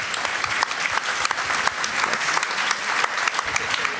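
Warm audience applause fills a lecture hall after an evening talk by author Orhan Pamuk, a dense, steady wash of many hands clapping throughout with no speech.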